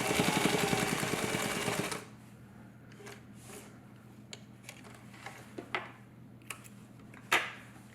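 Sewing machine stitching a tote bag gusset, a close, steady rapid whir for about two seconds, then stopping, followed by quiet clicks and fabric handling.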